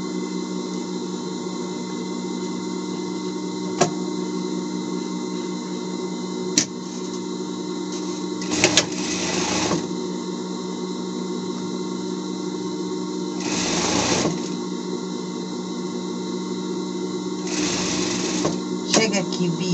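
A sewing machine stitches fabric for a Paw Patrol Chase costume, running steadily and close up for the whole stretch, with a few brief clicks and louder rustling bursts of cloth being handled along the way.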